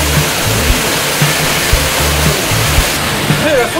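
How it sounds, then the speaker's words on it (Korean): A mountain waterfall rushes in a loud, steady, broadband roar that fills the whole clip, with low thumps from handling or wind underneath it. "시원한 폭포 왔는데요"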